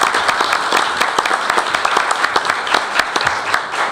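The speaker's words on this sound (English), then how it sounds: "let's give her a round of applause" Dense round of applause from an audience at a school board meeting, many hands clapping steadily and fairly loud for several seconds without any talking.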